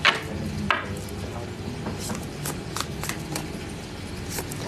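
Repeated riffling and snapping of playing cards being shuffled, with soft rhythmic bursts over a murmur of room noise.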